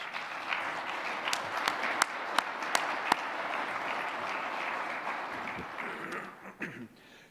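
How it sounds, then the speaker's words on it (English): A room full of people at an annual meeting business session applauds steadily for several seconds, with a few sharp claps standing out before it fades. "I'd like to give them a little round of applause"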